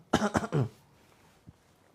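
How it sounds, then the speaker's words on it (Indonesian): A short burst of throat-clearing coughs, two or three harsh hacks close to the microphone, then a soft single cough after a pause. "Batuk-batukan."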